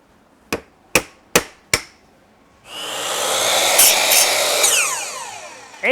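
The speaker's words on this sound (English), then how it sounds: "Like wood, these moldings can be nailed up" Four sharp, evenly spaced hammer strikes drive nails into vinyl molding, followed by a broad rushing noise; no talking.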